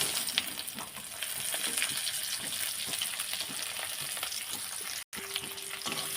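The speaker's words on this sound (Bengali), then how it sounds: "তেলটা গরম হয়েছে এক চিমটে জিরে দিয়ে দেবো দিয়ে দেবো কুচনো পেঁয়াজ" Chopped onion and a pinch of cumin frying in hot oil in a wok, a steady close sizzle and crackle running throughout with a brief dropout near the end.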